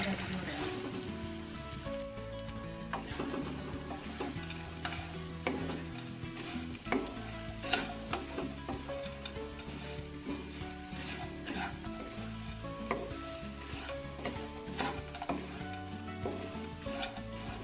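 Fried potato pieces are stirred in a sizzling pan, a steady frying hiss broken by repeated scraping and clattering stirs over the full length, with no talk.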